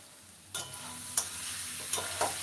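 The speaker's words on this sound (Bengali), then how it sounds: "সর্ষেনিন্দা ভাজি করতেছি" Mustard greens (shorshe) frying in a pan, a steady soft sizzle with a few sharp scraping stir strokes spaced through the short stretch, close by and moderately loud with no one speaking.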